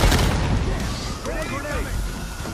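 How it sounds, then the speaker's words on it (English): A grenade blast in Call of Duty Black Ops 6: a dense, loud rumbling boom with low-end roar that lingers under battlefield noise and shouted chatter. "Grenade!"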